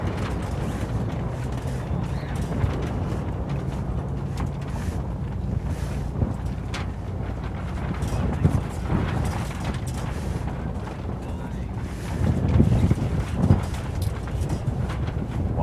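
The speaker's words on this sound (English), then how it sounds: "with the wind blowing right at the water" Strong wind gusts across open water at a disc golf course, roaring steadily into the microphone with buffeting bursts near the end and no talk.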